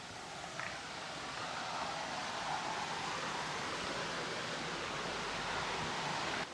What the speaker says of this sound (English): The stream, it's very peaceful through here.